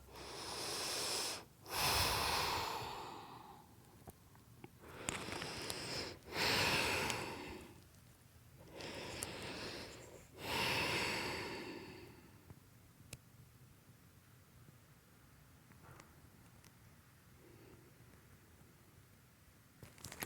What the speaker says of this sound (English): We're just gonna stay here for 3 really slow, full breaths.